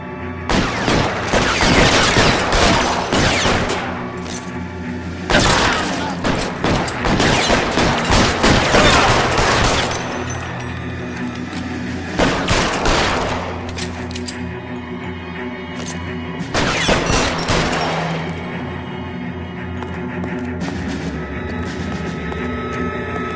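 Sustained bursts of gunfire in the L.A. Noire video game, loud and dense, several volleys of rapid shots with booming impacts over a low humming game backdrop.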